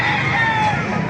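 A rooster crows loudly and close by at a Saturday chicken market in Baliwag, Bulacan, one sustained call over background chatter from the crowd.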